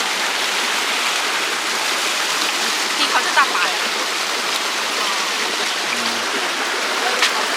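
Loud, steady rushing of a swollen stream after rain at a fishing spot, a continuous broadband roar filling the whole clip with only faint incidental knocks.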